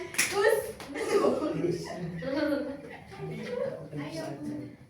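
Students in a classroom do the tepuk diam clapping game: a group chants in rhythm while sharp claps land at intervals between the spoken lines.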